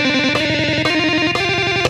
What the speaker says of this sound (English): that's just when you're playing very fast with hammer-on and pull-offs